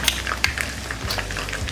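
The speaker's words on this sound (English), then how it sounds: "I'm going to try to stir it without everything falling." Seafood stew with breaking fish pieces is stirred in a pot on the stove, giving a short burst of soft scraping and bubbling sizzle with a few clinks, close by.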